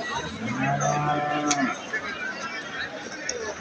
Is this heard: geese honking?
no